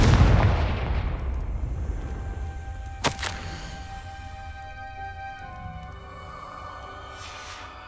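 A Confringo spell explosion in Hogwarts Legacy, a loud booming burst at the start that rolls off into a long fading rumble, followed by a sharp crack and lingering ambient tones.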